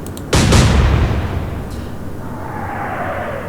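Naval guns firing high-explosive shells in the naval warfare game Atlantic Fleet: one loud, close boom with a sharp onset, then a long rumbling decay and a faint rising whine as the shells fly off.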